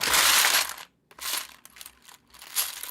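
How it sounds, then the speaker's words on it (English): Lego pieces clatter and rattle together in quick bursts, close and loud, three busy shuffling runs separated by short pauses with no talk. "The community may enjoy the Lego sounds."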